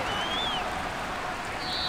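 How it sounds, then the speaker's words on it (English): Steady rain in a simulated 49ers versus Seahawks football game, a dense continuous hiss of falling rain at even loudness throughout, with faint tonal crowd or broadcast sounds drifting over it. "The rain set to continue as we are underway in the second half"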